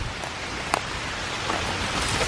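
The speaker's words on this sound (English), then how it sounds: "It's kind of starting to rain a bit heavier now." Rain falls on a forest campsite, a dense steady patter filling the background with a few sharper drops and rustles, no voices.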